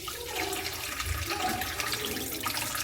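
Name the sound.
draining hot water off soaked onions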